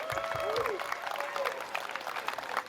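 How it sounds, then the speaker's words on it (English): An outdoor crowd applauds police officers and firemen at a Williamston Winterfest parade ceremony, with brisk clapping mixed with a few cheers and voices, moderately loud for under three seconds. "Again, one big round of applause for these folks."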